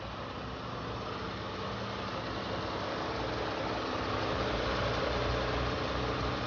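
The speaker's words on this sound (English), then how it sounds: "Engine sounds good." A steady car engine rumble runs throughout, an even idling drone with no speech, from a salvage auction car with 174,000 miles.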